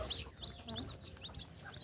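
Chickens on a home chick-hatching setup give repeated high, chirpy clucks and peeps in a steady close-up stream over a low background rumble.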